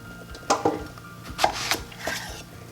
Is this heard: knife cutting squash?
yes